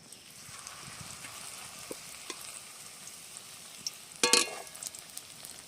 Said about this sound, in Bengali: এইবার আমি পাঁপড় না একটা একটা করে ভেজে নেবো পুর দেওয়া পাঁপড়টা